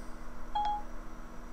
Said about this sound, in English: The damn phone just started talking on its own.